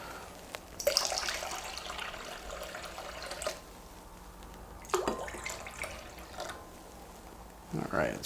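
Black tea poured from a quart container into a punch bowl, a broad watery splash running for a few seconds, with shorter pours and splashes afterward, fairly close and moderately loud.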